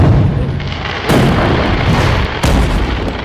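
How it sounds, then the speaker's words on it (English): Tannerite targets detonate outdoors as two loud, booming blasts about a second and a half apart, each a sharp crack followed by a rolling rumble, with no voices. "Tannerite. I'll blow it."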